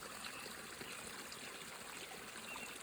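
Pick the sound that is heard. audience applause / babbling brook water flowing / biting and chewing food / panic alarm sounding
babbling brook water flowing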